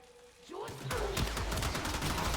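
Heavy Gunner enemies open fire in the Warframe video game, a dense, loud burst of rapid gunshots that starts about half a second in and continues without a break, with a voice speaking partway through.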